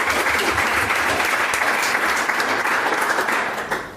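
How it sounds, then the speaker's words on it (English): Steady applause from a live audience during a podcast conversation, dense and continuous for the whole stretch before tapering slightly near the end. "I want to clap for that."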